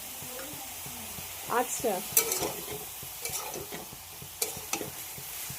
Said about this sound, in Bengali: এখন মশলাটা একেবারে দিয়ে কষিয়ে নিচ্ছি।